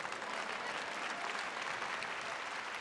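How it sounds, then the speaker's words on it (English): Steady audience applause fills a church hall during a sermon, dense and even throughout with no voices on top. "you might as well clap because it's true"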